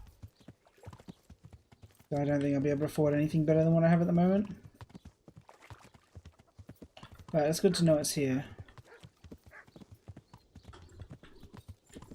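Horse hooves clip-clopping in the video game Kingdom Come: Deliverance at a horse trader, a soft irregular patter running through the clip beneath and between two stretches of someone talking.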